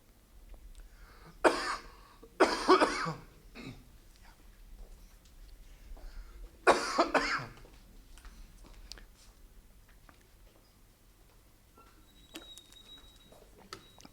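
A man coughs several times in a quiet room, with three loud, separate rough bursts spread over a few seconds, followed by softer throat sounds and light background ticking.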